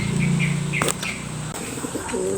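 Domestic pigeons coo softly near at hand, followed by a brief burst of wings flapping as they are released for the first time, and a few faint chirps.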